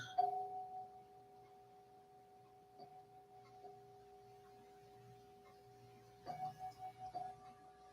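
A meditation bell is struck once during a chair yoga session, its pure tone ringing out clearly and decaying slowly over several seconds while soft, faint sounds drift in the background.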